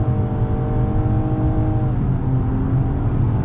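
Inside a 2020 Nissan Maxima Platinum in sport mode, the engine pulls under throttle with a steady droning hum that rises smoothly in pitch, moderately loud and continuous with no talk.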